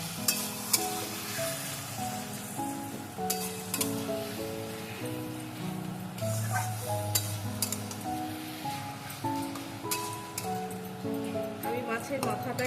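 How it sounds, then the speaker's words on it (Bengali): Taro leaves with sugar stirred and fried in a pan, with a steady sizzle and occasional scraping clinks running under melodic background music and some talk. "এটাকে কিছু সময় এখন নেড়ে নেড়ে কষিয়ে নেব ভালো করে, নাড়াচাড়া করে"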